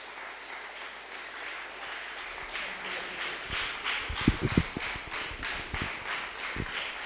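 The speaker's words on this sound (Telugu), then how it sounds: "జీతవనానికి ఒకసారి గట్టిగా చప్పట్లు కొడదాం" Fairly faint, steady clapping from a group at a children's meditation summer camp at Pyramid Jetavanam, with a few louder sharp claps standing out near the middle.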